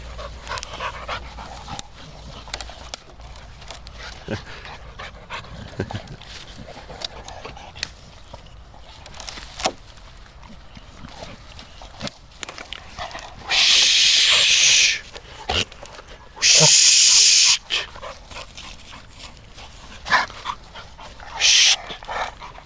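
Several dogs play outdoors with steady panting and snuffling, interrupted by occasional short bursts of loud hissing noise and brief thumps.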